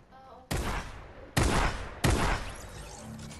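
Three sharp, loud bursts of gunfire from the video game Fortnite, each a broadband crack with a short fading tail, spaced unevenly about a second apart over faint background noise.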